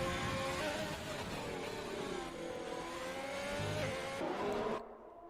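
Formula 1 cars race in a video game, with an Alfa Romeo running with its rear wing open toward turn 13 at the Australian Grand Prix. High engines whine and shift pitch continuously as they accelerate and change gear, then cut off abruptly near the end.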